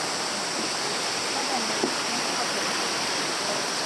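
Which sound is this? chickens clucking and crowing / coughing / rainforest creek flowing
rainforest creek flowing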